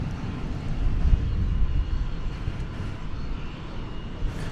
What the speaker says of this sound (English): That was American Flight 2514 coming in from Phoenix, Arizona, an Airbus A321.